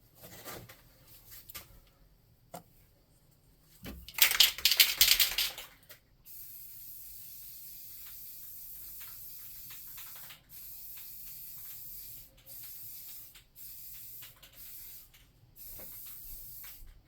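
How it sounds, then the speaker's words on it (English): Black spray paint hisses from a can onto a handmade tabletop cauldron, first a short, loud burst, then a long steady spray broken by brief pauses, close and alone. "Then we'll get some black spray."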